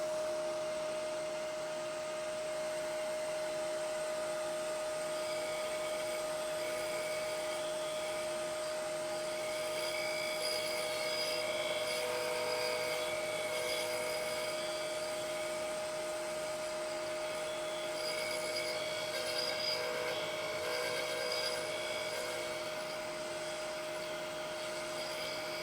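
A wood lathe spins at about 3,000 to 3,500 rpm while turning a threaded acorn box, giving a steady, loud whine with a constant pitched hum that holds evenly for the whole stretch, with no talking.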